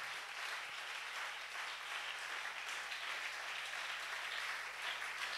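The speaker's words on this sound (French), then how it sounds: "On acclame très fort le Seigneur." A church congregation applauds and cheers for the Lord, a dense, steady wash of clapping heard from within the crowd that holds at an even level throughout.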